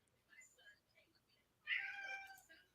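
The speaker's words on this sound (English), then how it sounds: "Somebody meowed at me." A single drawn-out meow rises clearly above a quiet background, preceded by soft indistinct murmuring.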